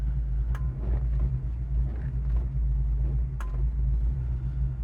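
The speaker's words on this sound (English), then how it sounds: "Let's set this 65 Mustang Fastback on the ground and see how it runs" A 1965 Ford Mustang Fastback engine idles on the ground with a deep, steady low rumble, close and continuous, with a few faint clicks and knocks on top.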